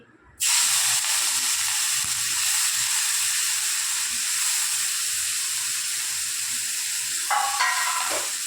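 Fish frying in hot oil with a little turmeric: a loud, steady hiss and sizzle bursts in after a brief quiet start and continues unbroken, close to the microphone.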